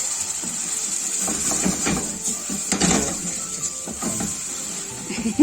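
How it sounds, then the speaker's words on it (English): A whisk scrapes and stirs steadily as flour is worked into thick pot roast gravy in a pot, making a continuous wet churning with soft clinks, close by and moderately loud, with no talking. "So you're probably gonna need a whisk."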